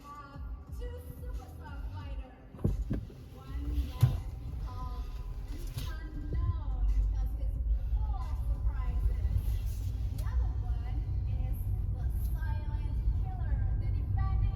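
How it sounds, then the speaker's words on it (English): Tesla car driving, a steady low road and engine-free motor rumble with tire noise building after a brief bump, continuous and fairly close from inside the cabin. "Now we start driving."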